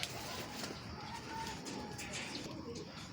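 Pigeons at a racing pigeon club training session in Buhangin, Quezon, cooing softly amid faint outdoor background noise and distant voices.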